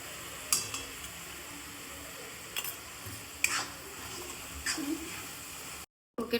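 Tomatoes with salt roasting in a pan for bajra rotlo, a low steady sizzle beneath a few sharp spoon scrapes and taps against the pan, ending in a brief silence.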